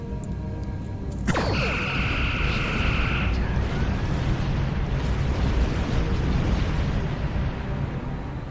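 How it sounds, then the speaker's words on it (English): Big explosions roar in the Star Trek Online space game. A sharp blast hits near the start, then a long, loud rumbling wash of debris noise fills the rest, with a brief synthetic tone ringing through. "They do make some nice explosions"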